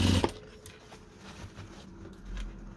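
A domestic sewing machine topstitches along the upper edge of a small lined fabric bag, a soft, quiet, rapid mechanical patter following a brief louder bump at the start.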